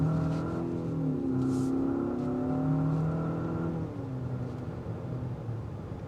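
Engine of a 2025 Infiniti QX60 Luxe Black Edition SUV in sport mode under hard throttle, a steady loud drone rising and falling in pitch as it shifts, continuous with no talk.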